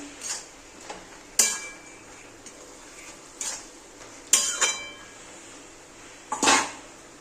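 A metal spatula scrapes and clinks against a pan while water spinach (kolmi shak) with turmeric is stirred, several sharp taps and short scrapes spaced a second or two apart, fairly quiet overall.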